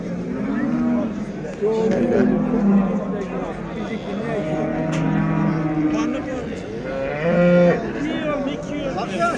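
Several cows moo repeatedly, near and overlapping, against a busy background of a crowded livestock market in Göksun, Kahramanmaraş.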